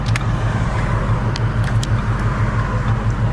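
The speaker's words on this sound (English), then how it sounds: "The idle is a lot quieter, it seems." A 2012 Ford Shelby GT500 fitted with 2-inch long tube headers idles steadily close by, a loud, even low throb with a regular rhythmic pulse, alone without talk.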